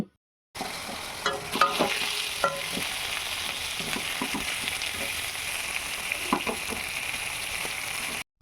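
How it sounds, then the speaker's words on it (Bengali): Marinated chicken pieces frying in hot mustard oil in a wok give a steady, close sizzle, with scattered spatula scrapes and pops as the pieces are turned, and no one speaking. "কড়াইতে সর্ষের তেল গরম করে ম্যারিনেট করে রাখা চিকেনগুলো খুব ভালো করে এপিঠ ওপিঠ হালকা ভেজে নেব"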